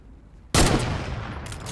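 A sudden loud burst of Fortnite gunfire that breaks in after a quiet moment, followed by dense, rapid shots and a sustained roar.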